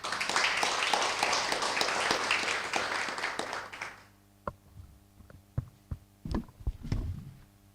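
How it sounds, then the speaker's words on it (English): Audience applause for a speaker at a public university lecture, steady and full for about four seconds before breaking off, followed by a few scattered claps and knocks in a quieter room. "please give her a round of applause"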